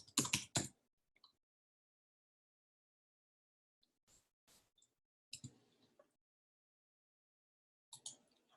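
Short bursts of typing on a computer keyboard while entering account details, a quick cluster of clicks at the start and a few sparse keystrokes later, near and fairly quiet with silence between.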